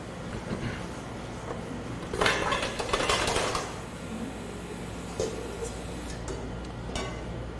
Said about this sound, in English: So I'm going to get a couple bowls here